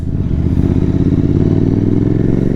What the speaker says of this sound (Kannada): ಇದ್ಯಾವ ಬೈಕು ಗುರು? ಅದು ಹಾರ್ಲಿ ಡೇವಿಡ್ಸನ್ ಅನ್ಸುತ್ತೆ.